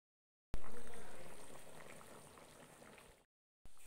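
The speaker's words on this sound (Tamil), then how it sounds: "குழம்பு நல்லா கொதிச்சிருச்சு" Chicken curry (kuzhambu) bubbles in a pot on the stove, a dense close simmering crackle that starts abruptly and slowly fades, with no talking.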